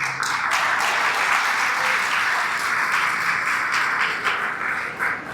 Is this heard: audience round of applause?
yes